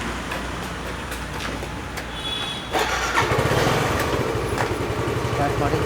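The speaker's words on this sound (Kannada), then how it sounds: "ಗಾಡಿ ಸ್ಟಾರ್ಟ್ ಮಾಡಿ." A vehicle engine is started outdoors during a film shoot, cranking and catching partway through, then settling into a rough, pulsing idle beneath background voices and ambient noise.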